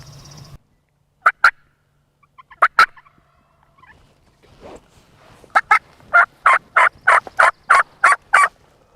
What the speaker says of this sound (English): had turkeys all around us, fired up